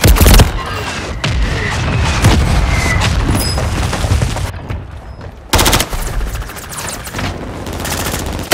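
Mortar strike explosions in Modern Warfare 3 land amid heavy gunfire, loud booms and rattling shots crowding together, with a brief quiet gap before another sharp blast and renewed firing.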